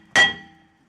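A hammer gives a single sharp metallic tap to a stuck brake rotor on a 2010 Camaro. The close, loud clang rings out and fades over about half a second.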